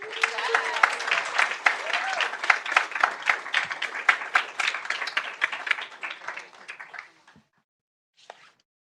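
An audience at a school board meeting claps for an honoree. The distinct, sharp claps rise and fall for about seven seconds, then stop abruptly into near silence, followed by one brief faint sound.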